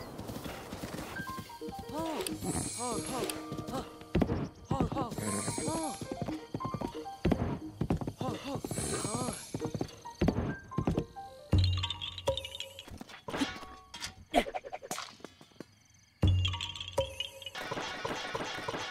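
Horse hooves clip-clop in the video game The Legend of Zelda: Breath of the Wild, a steady galloping rhythm mixed with game music and a whinny, with louder hoofbeat bursts near the end.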